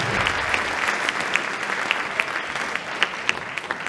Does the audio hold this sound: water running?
no